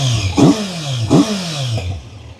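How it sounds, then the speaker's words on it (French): A Kawasaki Z900 motorcycle engine fires up and settles into a husky, rumbling idle. Two loud throttle blips stand out over a steady low drone, and a smaller third pulse follows. "Je vais vous démarrer la moto"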